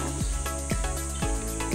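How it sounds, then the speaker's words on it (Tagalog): Crickets chirping in a city family park: repeated shrill chirps over a constant insect hum, fairly close and without talk. "Narinig na kayo? May kuliglig."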